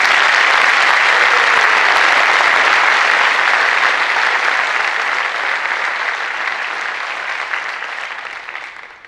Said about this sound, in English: one more round of applause for Jake Jennings as he takes the stage